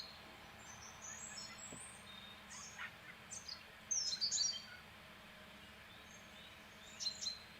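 Faint bird chirps and tweets in scattered bursts over a steady outdoor hum, distant and light.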